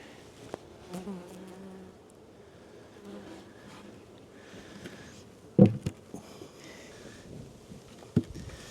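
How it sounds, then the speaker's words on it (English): Near a beehive, a large carpenter bee drones in a low, wavering buzz that rises and fades as it moves around, with a few sharp knocks and bumps close by. "So a big old carpenter bee just went in here."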